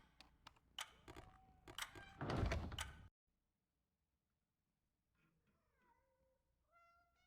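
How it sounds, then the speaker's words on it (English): An angry cat's meows in the game Sense, heard as a cluster of sharp, loud sounds before a sudden drop to silence, then faint rising meow-like calls returning softly near the end. "Something shiny is inside the cat box, but there's also a pretty angry looking cat"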